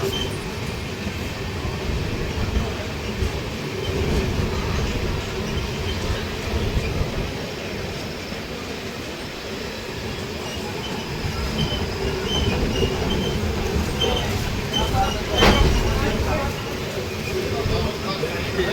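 A train runs on railway tracks with a steady, heavy rumble of wheels and carriages. The sound stays loud and continuous throughout, with voices faintly mixed in.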